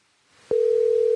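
A phone call tone begins abruptly after a brief soft lead-in, a single loud, steady pure tone that holds unbroken to the end.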